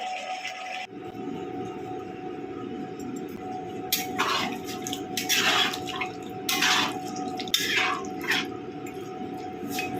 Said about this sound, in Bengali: মাংসটা ভালো মতো সেদ্ধ হওয়ার জন্য অল্প ছোট কাপের এক কাপ মতো জল দিয়ে দিলাম